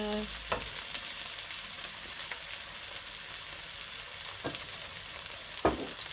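Velveted meat from a prepper's stir fry of canned and dried food sizzles steadily in a hot pan, with a few sharp scraping stirs of a utensil breaking through the constant frying hiss.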